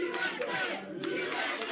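Old-school pro wrestling arena crowd chants "USA" in unison, a loud rhythmic mass of voices filling the hall throughout the short stretch.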